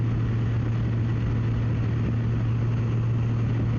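Steady, loud wind roar buffets a motorcycle rider's helmet at 65-70 mph behind a raised windshield, a constant low rumbling hiss with no break or talk.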